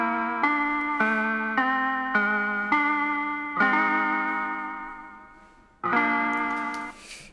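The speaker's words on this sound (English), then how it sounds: "little toy piano kind of sound" A simple toy piano melody of bright, plinking notes, each struck and ringing out with a slightly warbly, lo-fi tone, a pause before the final note.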